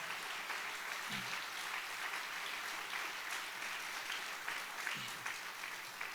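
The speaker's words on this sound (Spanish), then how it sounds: "Dale fuerte el aplauso a Jesús" Church congregation applauding during a Spanish-language sermon: sustained, even clapping from many people filling the space, moderately loud and steady with no speech on top.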